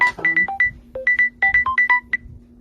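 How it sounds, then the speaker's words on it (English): A phone ringtone plays close and clear, a quick run of bright, melodic chiming notes in a bouncy rhythm over a steady low hum. "Oh, I forgot to silence that phone"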